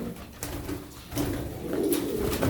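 Tumbler pigeons coo softly in a few low, throaty bursts close by, with faint rustling between calls.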